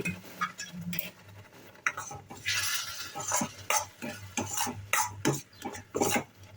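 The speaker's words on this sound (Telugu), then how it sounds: "వేడి నీళ్ళు కొద్ది కొద్దిగా పోస్తూ కలుపుకోవాలి" Roasted semolina being stirred with hot water in a cooking pan, with a spoon scraping and tapping the metal in a quick, uneven rhythm, close and moderately loud.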